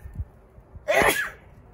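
A person lets out one sharp, close sneeze near the middle of a quiet moment in an abandoned storage locker. A few faint thumps are audible before it.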